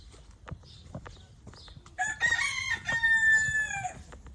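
Soft chicks peep and scratch nearby, penned with turkeys and bantam chickens, then a bird crows loudly and repeatedly over the brief chatter of the farmyard fowl.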